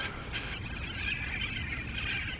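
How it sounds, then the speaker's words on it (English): Green parrots at a Southern California park lake squawk in harsh, repeated screeches, several calls overlapping at moderate distance over steady outdoor background noise. "These are some green parrots I always see at all kinds of these SoCal lakes, SoCal parks."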